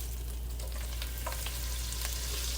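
Butter hits a pan of frying chicken and sizzles in a steady, crackling hiss with small pops and stirring, close and alone with no talk.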